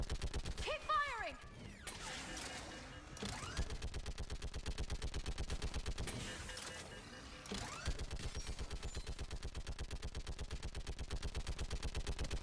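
Rapid, sustained automatic gunfire crackles through a Mass Effect firefight, a dense rattling stream of shots running almost the whole time, with brief lulls and faint shouted voices and whooshes behind it.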